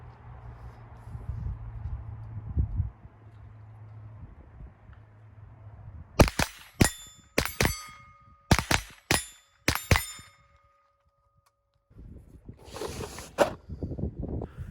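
Pistol shots ring on steel targets during steel challenge practice, a series of sharp cracks each followed by a bright metallic ping, fired in quick pairs and singles, after a quiet stretch of low rumble.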